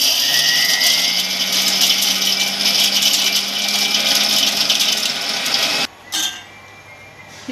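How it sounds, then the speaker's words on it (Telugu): A kitchen mixer grinder whirs loudly and steadily as it grinds roasted green chillies and chana dal for a gongura-style chutney, the motor running nonstop before cutting off abruptly, followed by a brief clatter and quiet. "మిక్సీ పట్టేసుకుందాం. ఇప్పుడు మిక్సీలో అయితే వేసేసుకుందాం."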